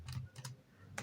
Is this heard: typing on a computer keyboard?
yes